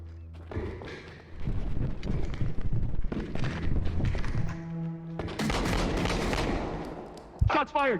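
Gunfire in the police shooter game Unrecord: bursts of repeated shots and heavy thuds over several seconds, fairly loud and dense, with a sharp burst of impacts near the end.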